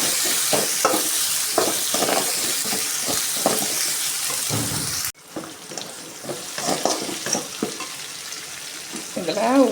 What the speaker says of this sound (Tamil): கருவேப்பிலை ஒரு கொத்து சேர்த்து நல்லா வதக்கணும்.